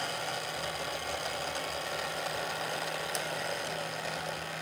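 A Hot Wheels booster runs fitted with quieter 3D-printed gears, putting out a steady, even motorized whir and hum that holds without a break, moderately loud and close by.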